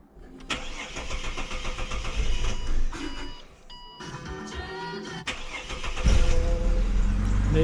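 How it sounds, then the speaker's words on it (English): Ford Territory SUV engine cranking and firing up after a fuel filter change, with a click, then a starter whirr and a steady idle that grows louder toward the end, heard close in a workshop setting. "Turn the ignition on."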